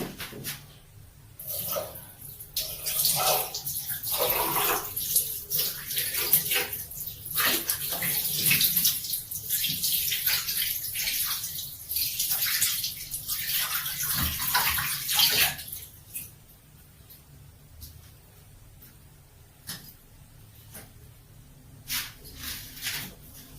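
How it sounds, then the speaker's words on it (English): Tap water runs steadily into a sink while a face is washed, with splashing and shifting flow for about sixteen seconds before it stops, leaving quieter handling noises. "Alright, I'm gonna wash it off now."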